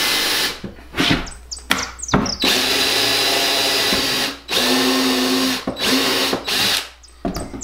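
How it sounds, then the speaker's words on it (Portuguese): A power drill fitted with a countersink bit bores screw holes in wood, loud close whirring bursts that start and stop several times with brief grinding into the timber and short quiet gaps. "Ela já fura pro parafuso entrar e escareia um pouquinho pra cabeça do parafuso entrar também."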